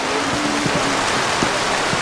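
Heavy tropical rain shower in Jamaica, a dense steady hiss of rain pouring close by with no voices.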